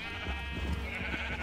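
Sheep bleating in Minecraft, a steady wavering bleat over a dense, loud game background lasting the whole moment, with no voices.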